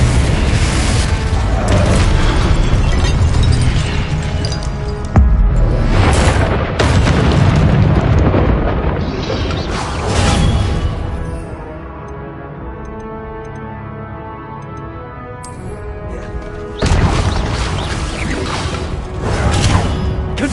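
Blasting-spell explosions and whooshes from the Hogwarts Legacy video game, loud, dense and continuous, with booming bursts layered over a game score and a brief quieter stretch before the blasts resume.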